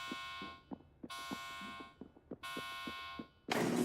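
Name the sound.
alarm in the video game Delta Force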